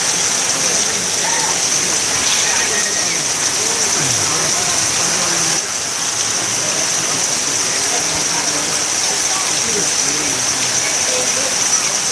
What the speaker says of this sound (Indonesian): Hujan deras full